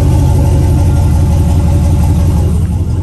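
A loud Chevrolet Silverado 2500HD pickup truck engine idles with a steady low rumble, close by, with no talking.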